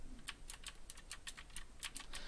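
Rapid, steady keyboard typing, keys clacking in quick irregular bursts at close range with a soft background hiss.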